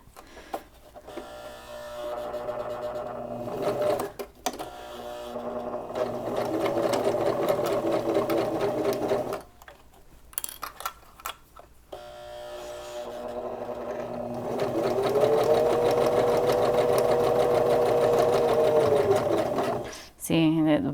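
Sewing machine stitching a fabric Kindle sleeve with elastic and a button, a steady close motor whir running in long bursts with brief pauses, louder in the final stretch, with talk in between.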